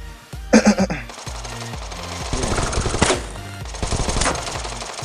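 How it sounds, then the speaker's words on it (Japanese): Bursts of rapid gunfire in the game Knives Out crackle in short volleys, with sharper single shots and loud impacts scattered between them. "銃声鳴らしてればいいですね"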